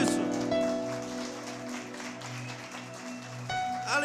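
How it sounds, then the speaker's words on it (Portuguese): A church congregation applauds during a sermon, with a dense, steady wash of clapping over sustained organ-like keyboard tones that fills the short stretch without pause. "Aplauda Jesus por isso."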